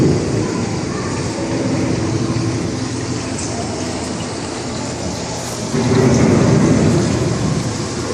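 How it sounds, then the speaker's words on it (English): Theatrical thunderstorm effect on a slow indoor boat ride at Epcot's Living with the Land, steady rain-like hiss and low rumble swelling into a louder thunder surge near the end. "The approaching storm may seem violent and destructive to us"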